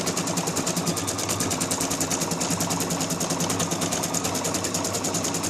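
A Brother Innovis 1500D embroidery machine stitches out a design with a quiet, fast, steady needle rhythm, close and continuous with no talking.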